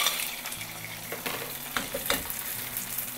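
Cleaned clams, purged in salt water, drop into a pan of garlic oil heated gently over low heat, setting off a steady close sizzle with a few clicks and clatters of shells.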